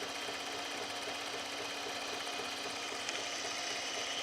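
A sewing machine winding a bobbin, a fast, even mechanical whir running steadily throughout with one small click, fairly quiet and without talk.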